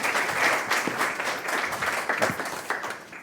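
An audience at a business talk applauds to welcome the panel, a dense patter of many hands clapping at moderate loudness, steady then thinning slightly toward the end.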